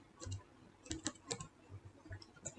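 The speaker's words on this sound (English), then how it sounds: "I am typing the name school." Typing on a computer keyboard while naming a new project in Notepad++, heard as sparse, quiet clusters of key clicks spaced irregularly at close range, with no talking.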